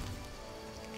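Steady rain ambience from The Witcher video game: a soft, even patter and hiss, faint and continuous through one brief second.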